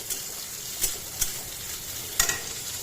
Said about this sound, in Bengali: ফোড়নগুলো ভেজে নিয়ে আমি ওর মধ্যে রসুন কুচি আর পেঁয়াজ কুচি দিয়ে দিচ্ছি।